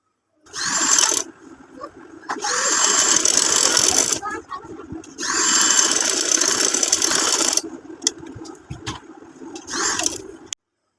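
A sewing machine stitching the side seam of a ladies' kameez runs in three long bursts of rapid mechanical whirring, close and loud, separated by brief pauses, with a shorter burst near the end.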